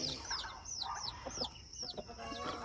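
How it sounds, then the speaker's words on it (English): Chickens clucking in the early morning on a small farm in Ghana, several short chirpy clucks and calls at moderate distance over a quiet background. "There's the chickies."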